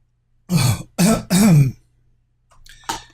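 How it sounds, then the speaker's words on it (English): Three harsh throat-clearing coughs from a throat tickle in quick succession, close and loud, followed after a pause by a softer short cough. "I don't want to cough into the microphone"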